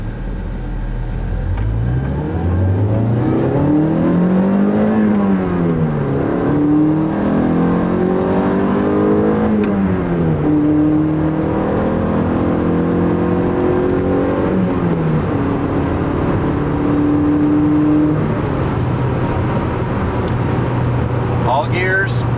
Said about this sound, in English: Alright, we're going to run through the gears here.